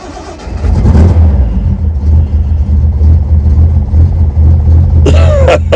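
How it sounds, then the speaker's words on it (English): A Reliant Scimitar fitted with Cherry Bomb exhausts cranks and fires up, then settles into a loud, steady low rumble, with a brief burst of higher noise near the end. "First put it in neutral, bit of choke, get the fuel pump going. Oh yeah, this is the Scimitar startup process."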